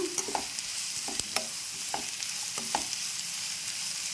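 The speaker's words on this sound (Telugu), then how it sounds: "ఇవి కొంచెం దోరగా వేగాక" Onions frying in a pan for a drumstick, tomato and egg curry hiss steadily up close, punctuated by several crisp spatula taps and stirs at uneven intervals, with no talking.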